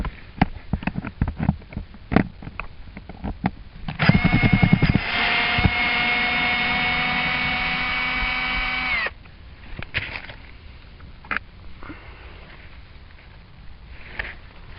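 A power drill whirs steadily for about five seconds, backing screws out of a dryer vent, with scattered clicks and handling knocks before and after.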